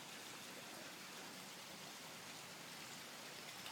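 Heavy rain during a storm falls in a dense, even hiss that keeps up without a break. It is steady and broadband, with no voices over it.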